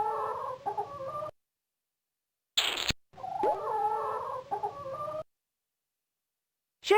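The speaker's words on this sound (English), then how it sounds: "The chicken coop is the house where the chickens live." Animated farm chickens cluck in a chicken coop inside a farm-exploration video game, two short bursts of close fowl clucking split by silence and a brief noisy blip, with no talking.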